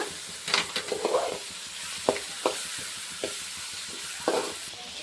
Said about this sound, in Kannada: ಈಗ ನಾವಿಲ್ಲಿ ಟೊಮೊಟೊನ ಹಾಕೊಳ್ತಿದ್ದೀವಿ ನೋಡಿ ಫ್ರೆಂಡ್ಸ್. ಈಗ ಇದನ್ನು ಕೂಡ ಚೆನ್ನಾಗಿ ಹುರ್ಕೊಳ್ಳೋಣ.